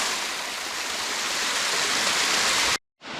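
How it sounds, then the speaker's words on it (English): A creek cascade tumbles into a pool at Purragulli Creek, a dense, steady rushing roar of falling water close by, broken by a brief dropout near the end before the flow resumes. "That supposed waterfall is just a cascade."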